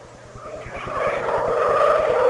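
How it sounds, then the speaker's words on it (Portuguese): A Ferrari Formula 1 engine in the 2000 United States Grand Prix rises to a screaming, buzzing pitch, steadily getting louder over about two seconds, with a harsh high-revving tone under race-broadcast ambience. "O grito do motor da Ferrari é sensacional."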